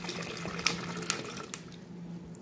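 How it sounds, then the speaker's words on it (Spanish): Water from a small bottle is poured into a jug while making peach cream pops, a close, splashing trickle with a few louder gurgles that fades toward the end, with no speech. "Vamos a agregarle la mitad del agua que nos quedó de la botellita de hace ratito"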